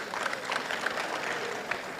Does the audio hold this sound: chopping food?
no